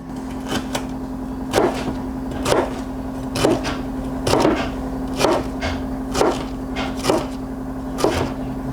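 A knife chops a pepper into half-inch sticks on a cutting board, giving about eight sharp, evenly spaced cuts roughly one per second, close and clear over a steady background hum.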